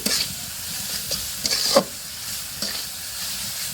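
Dried fish being fried and stirred with spices in a pan, a steady sizzle broken by several scraping stir strokes, close and clear with no voices.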